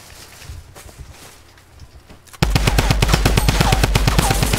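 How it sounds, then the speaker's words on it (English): Rapid automatic gunfire from a Tommy gun in the Fortnite video game, a loud close burst of evenly spaced shots that starts halfway through after quieter game ambience. "Yes, I was using the Tommy gun"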